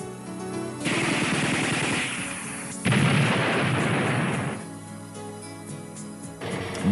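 KLIVER turret gun firing in rapid automatic bursts, a loud dense rattle of repeated shots in two long strings separated by pauses and echoing tails, with a final burst starting at the end.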